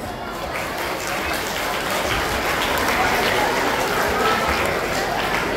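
Sustained applause and cheering from an audience for young children after their stage performance at a school Teachers' Day celebration, dense and steady throughout, with a murmur of crowd voices mixed in.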